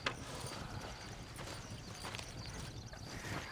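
Horse hooves clop in a quick, steady galloping rhythm in the video game Red Dead Redemption, moderately loud over a busy game soundscape.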